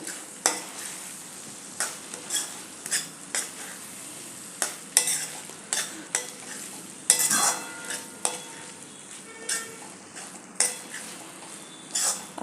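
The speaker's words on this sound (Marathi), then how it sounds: "ते याच्यात घालून घ्यायचे व्यवस्थित मिक्स करून घ्यायचं" Washed soybeans stirred into masala in a pan, with rhythmic spoon scrapes and clanks against the metal at roughly one-second intervals over a low, steady sizzle.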